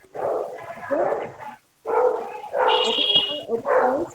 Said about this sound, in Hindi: मैम कोई कुत्ता भौंक रहा है पीछे